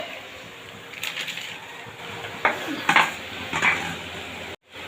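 Bottle gourd cooking in a pan as turmeric is stirred in: metal spatula clatters and scrapes against the pan in a few bursts over a low sizzle, close by, ending abruptly.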